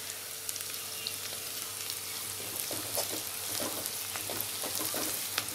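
Hot oil sizzles steadily as chillies go into frying broccoli curry spices, with faint scrapes and clicks of stirring scattered over a continuous close crackle, no voices.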